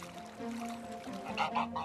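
Geese honk on a farm, a short burst of nasal, overlapping calls from a few birds nearby, rising toward the end against faint outdoor background.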